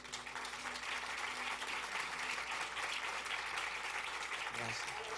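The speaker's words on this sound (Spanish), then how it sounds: "Aleluya, denle un aplauso a Dios." A church congregation claps continuously throughout, a thick steady wash of applause with a voice faintly underneath.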